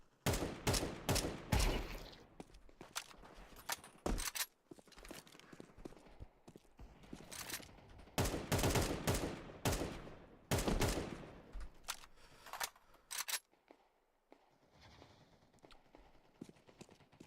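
Video game gunfire crackles in loud, rapid automatic bursts with some single shots, coming in clusters separated by quieter gaps, with no voices over it.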